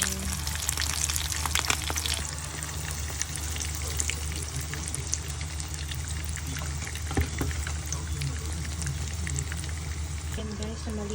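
An eggplant omelette with ground meat on the bottom, being turned over in a pan, sizzles and fries steadily and loudly throughout, with a constant low hum underneath.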